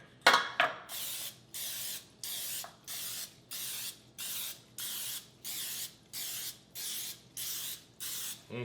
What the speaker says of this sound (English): Spray it with Pam. Make sure you coat each cup individually